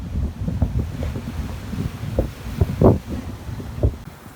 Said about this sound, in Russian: Сильный ветер, штормит.